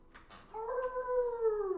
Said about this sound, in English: A howling sound, and then footsteps.